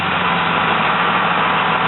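An early-2000s Dodge Cummins diesel truck engine runs at a steady, loud, close idle, a dense continuous rumble with no voices.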